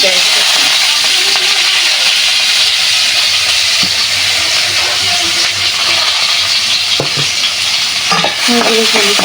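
Puti fish chepa frying in hot oil while being stirred, a loud continuous crackling sizzle close up, with scraping spoon strokes and a few clacks toward the end.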